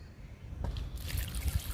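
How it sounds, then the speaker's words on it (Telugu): Water is poured onto potted rose and jasmine plants in a home garden, a faint brief trickling splash that begins after a short quiet moment and runs on softly. "వాటర్ ఇస్తున్నా."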